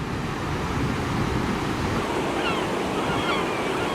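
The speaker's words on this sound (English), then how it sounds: "Right here on this dramatic looking coastline. For me, this is the perfect kind of beach." Surf washes steadily onto a rocky, wild beach coastline, a continuous close roar of breaking waves mixed with wind buffeting the microphone.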